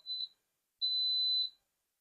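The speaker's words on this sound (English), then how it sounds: "When it's finished building pressure, it's going to beep again to tell me that the timer is about to start" An electric pressure cooker gives two clear, high electronic beeps, first a short one, then a longer sustained tone, in an otherwise silent room.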